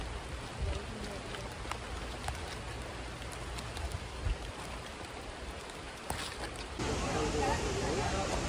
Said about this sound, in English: Hoping you can like hear the rain.